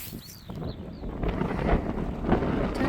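Strong wind gusts buffet the microphone on an open hilltop, a continuous roar that swells and stays loud throughout with no speech.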